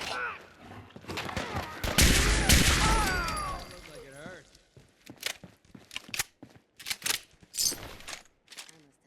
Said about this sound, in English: Apparently he was shooting through the wall.